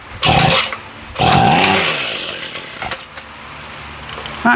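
Ryobi weedeater on full choke: two loud pull-start bursts as the small two-stroke engine catches, roars briefly and sputters down to a rough, uneven idle up close.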